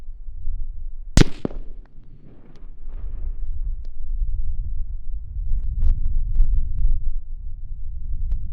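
A 5.56 rifle fires Sig Sauer 77 grain open tip match rounds at a 25-pound block of clay 200 yards away: one sharp, loud crack near the start, then outdoor wind rumble and faint handling clicks.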